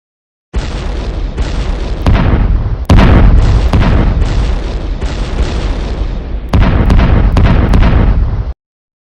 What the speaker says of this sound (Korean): 네 발의 어뢰를 모두 맞아 폭발해 두 동강이 나버렸다